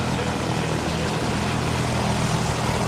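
A light propeller aircraft idles at about 1200 RPM during shutdown checks at Gloucestershire Airport, a steady, close, rumbling drone with no pauses.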